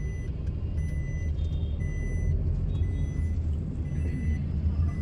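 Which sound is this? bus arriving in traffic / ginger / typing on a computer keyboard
bus arriving in traffic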